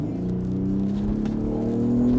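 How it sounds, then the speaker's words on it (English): BMW M240i fitted with an aftermarket exhaust, its engine droning with a deep steady rumble that gradually rises in pitch as the car pulls, heard from inside without talk. "The noise, Mike's put an exhaust on this, which sounds really good"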